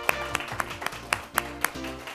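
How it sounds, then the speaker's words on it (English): Audience at a middle school Science Bowl match clapping for a team, a short burst of applause with distinct individual claps standing out in an uneven rhythm. "let's give another round of applause here."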